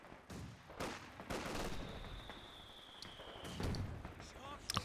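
Machine gun fire crackles in Company of Heroes 2 trench combat, with repeated bursts and scattered shots at moderate distance, under an ongoing battle din.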